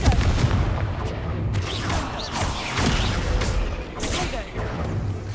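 Blasting-spell explosions in Hogwarts Legacy, cast in mines and tombs, boom repeatedly in a dense, rumbling barrage with crashing debris, several heavy blasts spread across the span.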